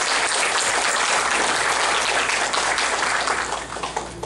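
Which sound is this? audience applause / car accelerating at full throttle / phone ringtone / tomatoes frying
audience applause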